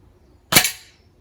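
A single sharp shot from a Weihrauch HW100 PCP air rifle, a crisp close crack with a short hissing tail, alone against quiet background.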